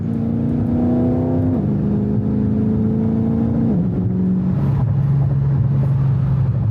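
A Dodge Scat Pack in sport mode runs at steady engine drone, its pitch dropping in quick stepped jumps as the automatic snaps through several fast upshifts one after another.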